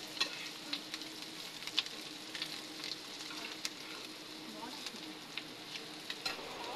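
An egg frying in a pan on a home stove, giving a soft continuous sizzle with scattered small crackles and pops, close but fairly quiet, with no talking.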